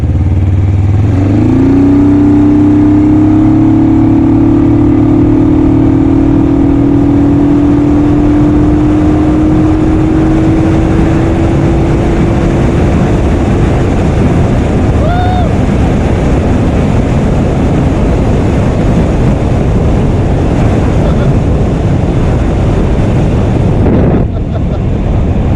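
A 1980s Suzuki GS450A automatic motorcycle engine runs loud and steady while riding, its low drone rising as it pulls away and holding a strong even tone, with wind rushing past throughout.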